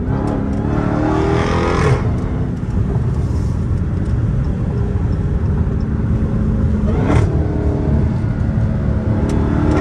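A 797 hp Dodge Hellcat Redeye's exhaust roars loudly and continuously as it accelerates hard, heard from inside the car with the window open, with brief breaks near the start and toward the end.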